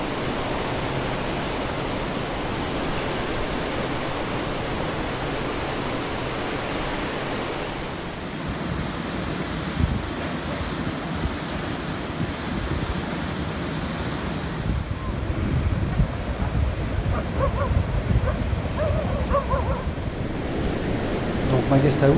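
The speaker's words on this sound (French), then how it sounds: "cet océan ici, il n'est pas très calme, hein." Monsoon-season ocean waves crash and churn along the Indian coast, a continuous loud broadband roar with wind buffeting the microphone, swelling louder toward the end.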